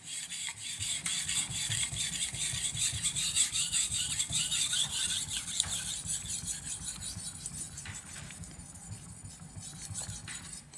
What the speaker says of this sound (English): So now I'm gonna flip it just because I wanna make sure I sharpen it evenly.